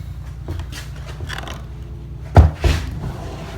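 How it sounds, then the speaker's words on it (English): Cupboard door being opened on a building site during electrical work on a light supply, two close knocking thuds in quick succession over a quiet low hum. "put the doors back on so we can open this door"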